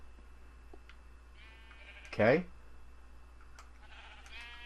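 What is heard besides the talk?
sheep bleating in the video game Minecraft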